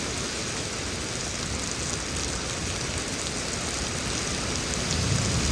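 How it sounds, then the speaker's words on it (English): Extreme heavy rain pouring down during a Houston, Texas storm, a dense, unbroken roar of water hitting surfaces at close range, steady and loud with no voices over it. "this water's just coming down, man. This is extreme rain."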